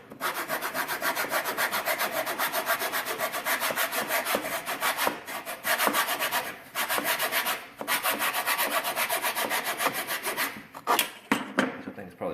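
Handsaw cutting through a plywood board during a floor installation, a steady rhythmic back-and-forth rasp of wooden strokes with a few brief pauses, close and alone.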